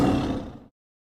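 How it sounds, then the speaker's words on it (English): A tiger roars once, a short loud growling burst that fades out within about a second, followed by silence. "T for tiger."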